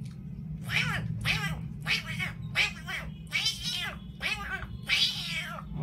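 A boy mimics fighting cats with a rapid run of about seven sharp, rising-and-falling yowls in quick succession, loud and close over a constant low hum.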